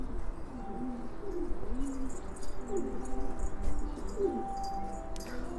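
Pigeons coo inside a loft, several soft repeated coos rising and falling close by over a quiet background, with faint rustling and a brief higher chirp near the end.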